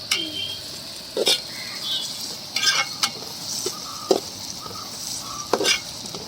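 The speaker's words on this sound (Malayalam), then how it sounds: "നമ്മൾ സവാളയൊക്കെ നല്ലോണം വഴന്ന് വന്നിട്ടുണ്ട്" Sliced onions sizzle steadily in a hot pan while a utensil scrapes and stirs in occasional sharp bursts, close up.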